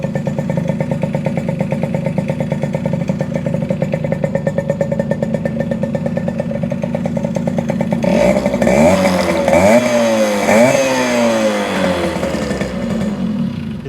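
Small 1974 Yamaha RD60 two-stroke motorcycle engine idling steadily with a raspy buzz, close and loud, then blipped through several sharp revs that rise and drop near the end.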